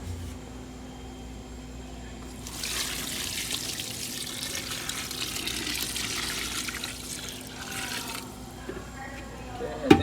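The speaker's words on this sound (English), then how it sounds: "So now we just put the remaining amounts of water." Tap water pours into a large cold brew coffee container holding coffee grounds, a rushing stream that swells midway and holds for several seconds before easing off, with small clinks at the end.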